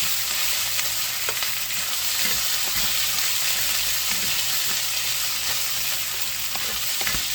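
Potatoes cook in a pot with beef bacon for a corn chowder, giving a steady, dense sizzle throughout with faint scattered clicks of stirring, no voices.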